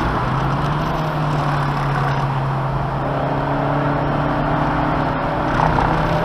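Race car on a track session accelerating hard, the engine note a loud sustained drone that climbs steadily in pitch over several seconds.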